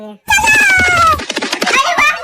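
Loud, drawn-out cartoon cat meows, several overlapping yowls with rising and falling pitch, close and prominent.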